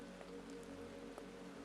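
Soft, steady rain pattering on a surface, a gentle continuous hiss with scattered faint drop ticks, quiet and even throughout with no voices.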